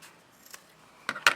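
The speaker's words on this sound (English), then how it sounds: "I'm gonna cut this into 2 pieces" Scissors snip through a fabric tab, two quick crisp cuts near the end after a faint earlier snip, close and alone with no talk.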